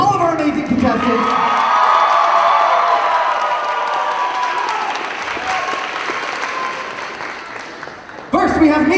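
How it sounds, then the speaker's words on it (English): Audience applause with cheering and whoops fills a convention hall after a cosplay contest, loud and sustained for about eight seconds before an announcer's voice returns at the end. "let's have one more round of applause for all of our amazing contestants"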